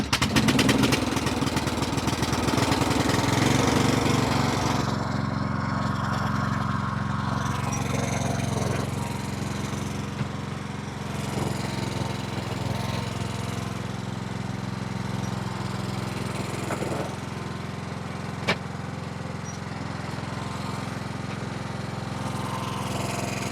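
The engine of a 25-year-old Craftsman LT1000 riding lawn mower runs steadily nearby with a constant droning rumble. A rougher stretch comes at the start, then it settles to an even idle, with one brief click partway through.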